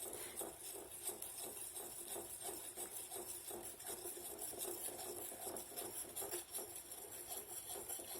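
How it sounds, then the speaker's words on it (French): A whole egg is worked into a well of flour for beignet batter, making continuous, quick, rhythmic scraping and tapping against a bowl, close and steady with no voices. "je mets l'œuf entier. Et je commence à mélanger"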